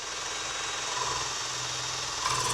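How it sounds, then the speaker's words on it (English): A power drill fitted with a 7/8 inch spade bit bores a hole through an electrical box into a wall, giving a steady, continuous whirring grind at close range with no talking. "We're going to use a 7/8 inch spade bit to drill the hole"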